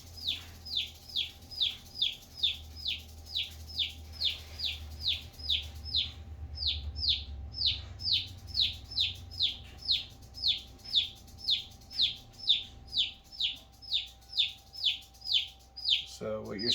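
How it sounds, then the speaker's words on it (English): A young chick in an enclosure peeps over and over in a steady run of thin, high, down-slurred calls, about two each second, moderately near and fairly soft with no talking. "What you hear is the other chick that's in."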